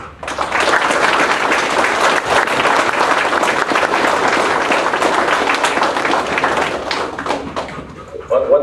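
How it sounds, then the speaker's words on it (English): A crowd's round of applause at a police memorial service in Brownsville honoring K9 Officer Magnum. Clapping swells quickly, holds thick and steady, then thins out near the end as a voice returns. "ask all of you to pay tribute by a round of applause to Officer Magnum"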